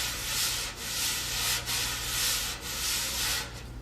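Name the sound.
drum brushes rubbed in contrary back-and-forth motion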